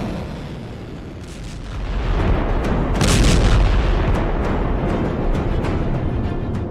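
Iranian missile strike on Israel: a loud, rumbling barrage of explosions swelling into a sustained roar with scattered sharp cracks and bursts, distant and continuous.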